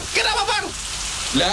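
Steady rain hisses as a constant wash through a radio comedy scene set in a leaky boarding house, with a voice speaking briefly over it at the start and end.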